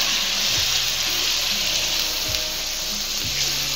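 Steady, loud sizzling of tempering spices frying in hot oil in a pan for an egg tadka, a continuous crackling hiss with faint low clatter underneath.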